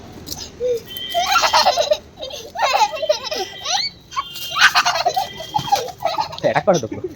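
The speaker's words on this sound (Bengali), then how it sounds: "এখন মুরগি লড়াই দেখতে" Chickens at a cockfight squawk and cluck in loud, repeated bursts close by, mixed with people talking and laughing over them.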